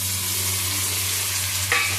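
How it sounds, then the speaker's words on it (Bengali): Onion and capsicum sizzle steadily in a hot pan as they are stir-fried for restaurant-style chili chicken, a loud close hiss with a spatula scrape near the end. "ভালো করে নাড়াচাড়া করে নিচ্ছি।"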